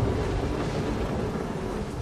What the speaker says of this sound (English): Whoa, it's so stormy!